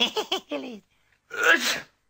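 A single person's sneeze, preceded by a short burst of speech, then a brief pause before the loud, breathy sneeze bursts out close to the listener.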